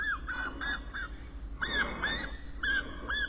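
Bird distress call from an electronic predator caller during a springtime coyote hunt in a field, a series of shrill honking squeals in repeated bursts, fairly close and loud over a low background rumble.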